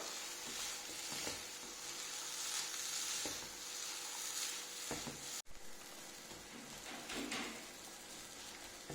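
A semolina and sugar dessert cooking with vanilla essence in a pan, a steady soft sizzle with periodic scraping strokes of a spoon as it is stirred, one sharp brief cutout midway.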